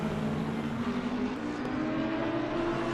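Porsche race cars at the Nürburgring in Assetto Corsa Competizione, a steady high-pitched engine wail at full throttle from close behind, continuous and loud with a slight pitch shift, no voices.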